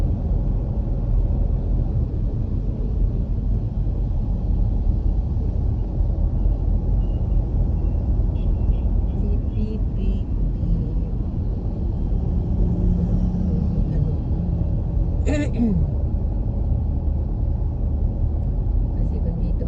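Heavy road traffic in Mandaue City, a steady loud rumble of car engines and passing vehicles heard from inside a vehicle, continuous throughout with a brief sharper sound near the end; voices talk faintly underneath.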